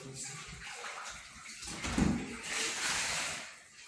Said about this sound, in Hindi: इतना पानी डाला कि जिसके अंदर गोश्त गल जाए